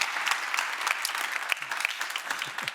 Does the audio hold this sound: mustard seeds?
no